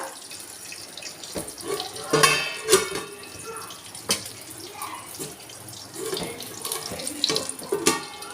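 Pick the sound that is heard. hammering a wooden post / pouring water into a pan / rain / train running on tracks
pouring water into a pan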